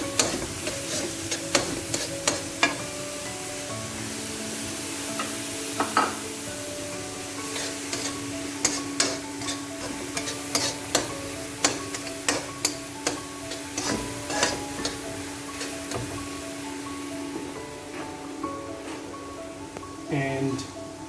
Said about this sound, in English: So in goes the onions.